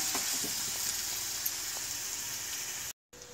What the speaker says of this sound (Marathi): हे मसाले मसाले असे तेलात परतायचे आहेत।